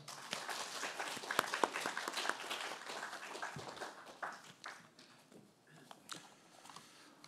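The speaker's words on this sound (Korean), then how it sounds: "우리 하나님 앞에 또 영광의 박수 올려드리시겠습니다" Church congregation at a Sunday worship service claps in fairly quiet, uneven applause, the clapping strongest early on and thinning to scattered claps toward the end.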